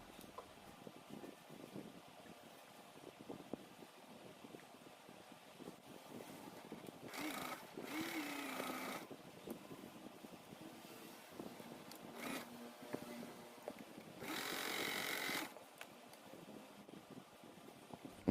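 A sewing machine stitches the front part of a blouse, running in a few short bursts separated by quiet pauses, faint and close with low background noise and no talk.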